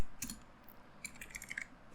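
Quick bursts of computer keyboard typing entering a command, a few close, crisp key clicks in short clusters over a quiet room.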